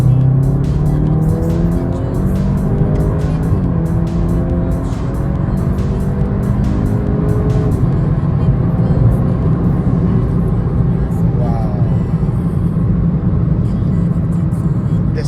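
A Volkswagen Golf GTI Clubsport with 300 bhp accelerates hard from inside the cabin, its engine note climbing through gears in repeated rising sweeps with brief shift breaks, loud and sustained beneath road rumble.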